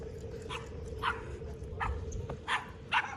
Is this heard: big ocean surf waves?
no